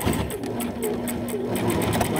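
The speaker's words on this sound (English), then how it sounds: "Put down your presser foot and then straight stitch." A sewing machine straight stitches fabric for an anti-fog glasses mask, a steady fast mechanical whir with rhythmic needle clatter running continuously and close throughout.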